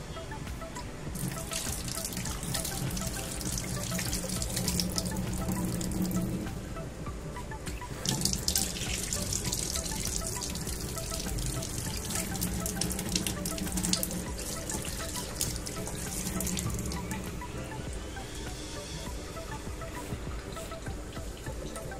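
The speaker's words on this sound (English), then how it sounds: "Before I eat, first I need to wash my hands." Hands are washed under a running tap filling a sink: a steady, close rush of water with splashing and dripping that swells and shifts throughout.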